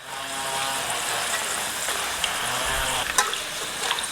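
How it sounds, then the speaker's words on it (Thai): Sausages cut like French fries deep-frying in hot oil and stirred often: a steady, loud, hissing sizzle that fills the whole stretch, broken by a few light scrapes and clinks near the end, with no talking. "การทอดนี่เราต้องคนกันบ่อยๆนะครับ เพื่อให้ความร้อนเนี่ย ทั่วถึงนะครับ"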